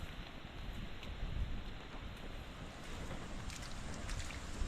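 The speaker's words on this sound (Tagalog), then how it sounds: "Naulan na naman po." Steady rain falls over a garden plot during the monsoon season, a dense even hiss with no pauses, close and fairly faint, with no voices.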